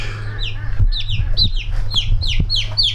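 Chickens at a farm zoo in Beit El, Israel, cluck and chirp in a steady run of short, repeated calls, fairly close, over a constant low hum.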